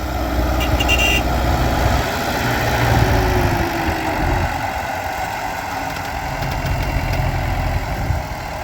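A tractor working a field while sowing corn, a steady low engine drone running quietly and continuously with slight swells in level, no talk over it.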